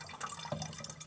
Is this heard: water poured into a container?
yes